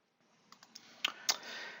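A computer mouse gives a few soft, sharp clicks in a quiet room, with a faint hiss running underneath.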